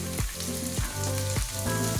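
Carrots and other vegetables for egg fried rice crackle steadily in a hot pan, a dense close sizzle broken by three regular scraping sweeps of a spatula.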